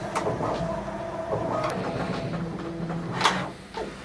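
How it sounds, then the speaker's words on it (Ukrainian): A Bambu Lab P2S 3D printer starts a print, giving a steady mechanical hum with stepper-motor tones and brief higher whirs and clicks, heard close and without speech. "Все, досить швидко друк починається, а тепер слідкуємо за тим, як це буде відбуватися."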